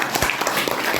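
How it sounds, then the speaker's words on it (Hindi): A seated audience at a business plan meeting breaks into loud, dense clapping, a brief burst of many hands striking together close by with no pauses. "तो बजाओ एक बार जोरदार ताली।"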